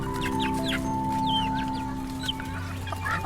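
Pet chickens cluck in a busy flock while being fed, with soft overlapping clucks and chirpy calls close by over a steady hum of background noise.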